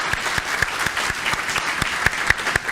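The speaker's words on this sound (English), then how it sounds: "So a big round of applause for Steve." Clapping from an audience at a council meeting for its outgoing chair: a fairly sparse, even run of distinct hand claps, close and evenly paced, with no talk over it.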